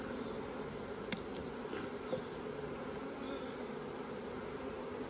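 Honeybees at a hive hum in a steady, faint drone, with occasional individual bees buzzing past nearby; no voices.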